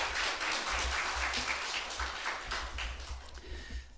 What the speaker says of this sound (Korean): 너무너무 우리 성가대 한번 격려의 박수 올려드리겠습니다